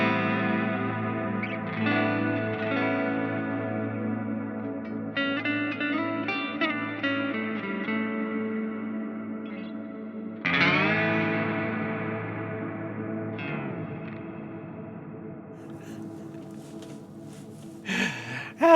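A guitar played through an amp with a long, very wet reverb. Picked notes and chords bloom into washy, lingering tails, with a louder strum midway that rings on and slowly fades.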